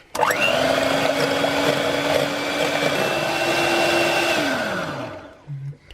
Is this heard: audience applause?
no